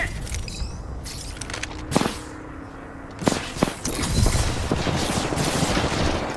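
Scattered gunshots ring out in an Apex Legends match: a few distinct loud cracks first, then a steadier stretch of rapid distant firing.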